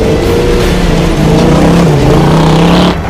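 A 1973 AMC Hornet dirt car roars loudly and steadily as it drives, its engine note holding then shifting pitch partway through, close and continuous with no speech.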